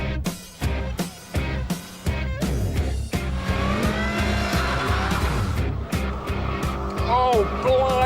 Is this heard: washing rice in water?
no